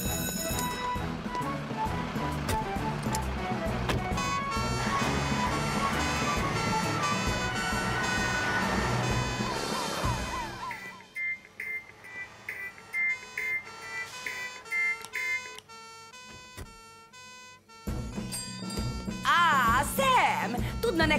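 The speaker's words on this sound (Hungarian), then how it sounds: "Érdekes szirénázó hang jön ki most ebből az izéből." A cartoon gadget gives off a siren-like wail during a kitchen fire episode, with loud tonal music and beeping in the first half, then stepped electronic tones rising and falling, alone and near.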